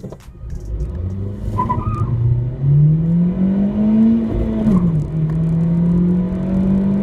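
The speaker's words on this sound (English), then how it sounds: "it does also sound amazing, and I'll play a clip right here for you guys too" A Honda car engine revs up with a rising drone, holds high, then drops and settles into a steady growl, close and fairly loud with no talking.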